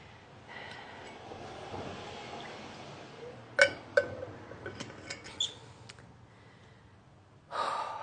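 Faint, ragged breathing and gasps from someone recovering after a set of arm and grip exercises following deadlifts, with a few short sharp sniffs and exhales, quiet and close, with no talk.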